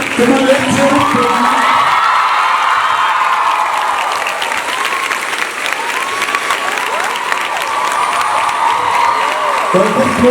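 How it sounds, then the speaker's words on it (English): At a school annual day, a crowd applauds the principal and lecturer with continuous loud clapping, whoops and children's shouts layered over the steady roar of hands. "Bigger round of applause for the principal"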